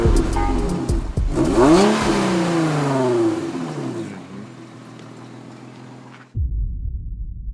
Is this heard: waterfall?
no